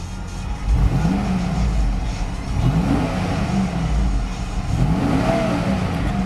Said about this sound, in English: Revs up nicely, idles smoothly